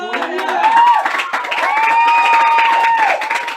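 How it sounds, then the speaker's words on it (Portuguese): A church congregation at a Catholic sermon, loud and sustained, with cheering and shouting voices over clapping in a reverberant hall. The clapping itself is hard to pick out under the voices. "As palmas foi fraca, dá mais forte aí pro Senhor."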